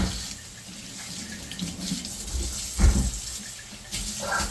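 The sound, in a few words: water running from kitchen sink faucet while rinsing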